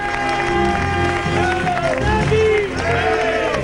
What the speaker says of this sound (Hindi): बीजेपी संसदीय दल की बैठक में तालियों की गड़गड़ाहट के साथ प्रधानमंत्री का स्वागत हुआ